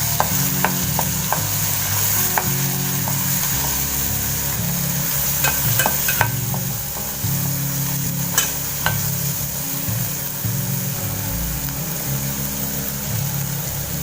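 Garam masala, pepper and cumin powders fry and are stirred in a pan for egg malai curry, with a constant sizzle, a low burner hum and sharp metallic scrapes and taps of a spoon at irregular intervals.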